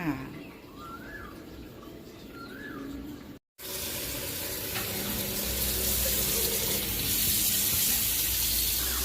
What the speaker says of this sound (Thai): กุ้งกับปลาหมึกนะคะ ล้างทำความสะอาดเรียบร้อยนะคะ